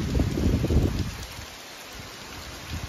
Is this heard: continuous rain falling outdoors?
yes